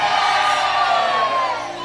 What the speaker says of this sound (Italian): Tutti con le mani in alto e un urlo proprio bello forte.